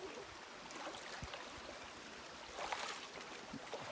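Shallow stream at the foot of a waterfall along a trek, a soft steady rushing and trickling of water with a slightly louder splashy swell near the end, no voices.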